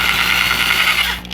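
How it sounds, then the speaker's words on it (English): A power drill bores a hole into a quarter-scale resin Thor statue with bits from 3/16 up to 1/2 inch, a steady close whirring grind that runs about a second before cutting off. "when I drill these, I don't go in real fast because the drill tends to wobble a little bit"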